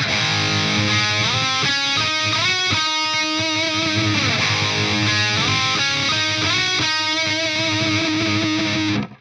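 Distorted electric guitar, effects-heavy and loud, playing a sliding, bending vocal-style melody line over sustained notes before cutting off at the end.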